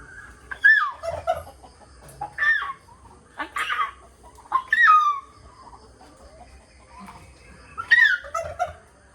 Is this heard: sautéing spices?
no